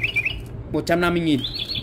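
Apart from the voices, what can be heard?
battery-powered toy bird toothpick holder chirping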